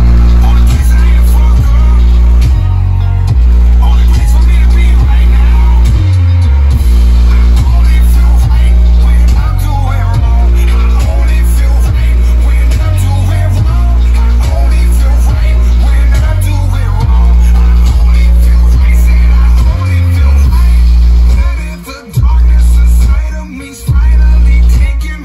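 Loud car-audio bass booms through the cab of a 2004-2008 Ford F-150, heavy low thumps pulsing steadily with music for most of the stretch before briefly dropping out near the end.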